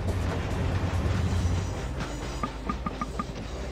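A train in Chris Sawyer's Locomotion rolls along with a steady low rumble, fading slightly, as a short row of soft rhythmic clicks sounds near the end.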